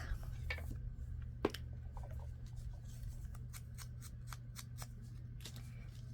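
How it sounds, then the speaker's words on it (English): Scissors cutting a paper file folder insert in half, a series of short crisp snips in quick succession over a low hum, fairly close and quiet, no talk. "now we'll cut this one in half"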